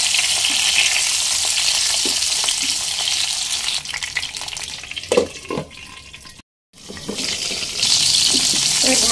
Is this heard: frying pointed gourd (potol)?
yes